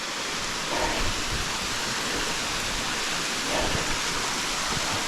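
Ozark waterfalls running strongly after recent spring rains, a constant broad rushing of water that stays steady and fairly loud, with no talking.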